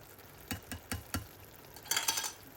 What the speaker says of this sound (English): And then I'll give it a stir.